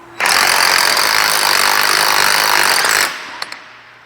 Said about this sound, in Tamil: இது இம்பேக்டரில் யூஸ் பண்ணியும் கழட்டலாம்.